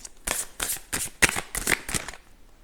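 Oracle cards being shuffled and drawn by hand in a quick series of crisp riffling bursts, close up and alone.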